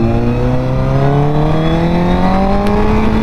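A Honda CBR1000RR sport bike engine revs steadily upward as the motorcycle accelerates through the gears, a loud, close, continuous rising whine with no one speaking.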